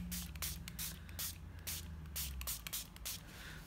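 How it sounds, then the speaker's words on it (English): A spray bottle mists liquid onto a silicone craft mat in quick short bursts, close by and soft, with faint handling rustle between sprays. "So I'm just going to lightly spray"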